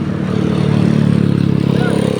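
Motorized tricycles pass along a tree-lined road near a beach, their small engines making a steady, fairly loud mid-pitched drone that swells and lingers through the moment, with no talk over it.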